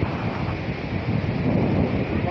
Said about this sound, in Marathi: वारा पण खूप सुटला आहे.